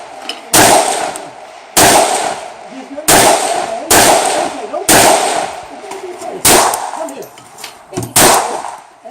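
Loud, close pistol shots from a Bersa single-stack handgun at an outdoor range, fired in separate bursts of a few rounds with short pauses between strings, each crack sharp and ringing.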